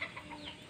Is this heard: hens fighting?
yes